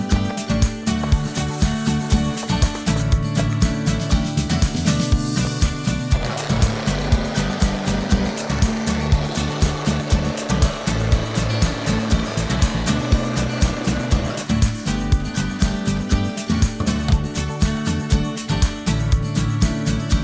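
A buffing machine polishes car paint during a full detail, a steady loud mechanical whir droning continuously, with the tone thickening slightly midway as the pad presses harder.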